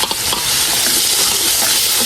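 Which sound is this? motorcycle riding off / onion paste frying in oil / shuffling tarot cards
onion paste frying in oil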